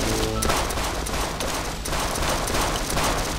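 Gunfire in the video game Propanic: a dense, continuous burst of rapid shots, loud and close, running through the whole short stretch with no talk.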